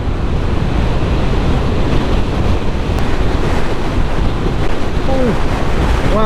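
Strong coastal wind roars steadily and loudly across the microphone on Scotland's north coast, with surf washing underneath and no pauses throughout.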